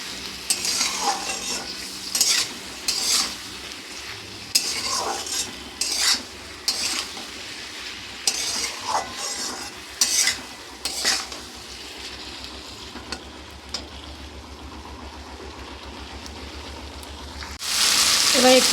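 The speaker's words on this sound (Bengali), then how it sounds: "এবার এই ভেজে রাখা ব্রকলিগুলোকে দিয়ে দেবো।" Fried broccoli is stirred in a pan, with a spoon scraping and clattering in bursts over a soft steady sizzle. Near the end a louder rush of sizzling follows.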